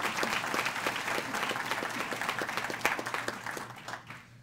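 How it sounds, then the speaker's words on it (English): Audience applause at a community gathering in Trussville, a dense, steady wash of many hands clapping close by that thins out at the end. "So let's give those guys a big round of applause."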